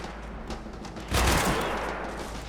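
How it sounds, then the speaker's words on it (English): Sniper gunfire in the Call to Arms video game during a modern war battle, a sharp crack swelling into a loud, rumbling burst over dense constant battle noise. "sniper strike"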